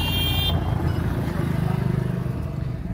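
A Sonalika DI750 tractor with a turbo fitted and a replaced silencer runs close by, its engine giving a loud, steady, throbbing rumble with rapid pulsing, preceded briefly by a high-pitched tone.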